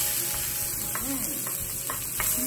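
Onions with garlic frying in a pan, a steady broad sizzle with a few soft stirring scrapes over it, close and even, no talking.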